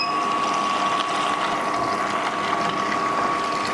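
An Angel 5500 juice extractor grinds in reverse, a steady close mechanical whirr with a constant tonal hum and faint clicking gear texture throughout, no voices.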